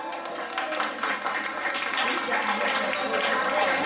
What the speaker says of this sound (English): please welcome the father of the bride. Give him a round of applause.